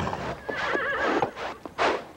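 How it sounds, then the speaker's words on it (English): A horse whinnies in a series of shrill, wavering neighs, followed by a short sharp snort-like burst, with faint hoof clops mixed in, close and clear. "Dumbest animals in the world, horses."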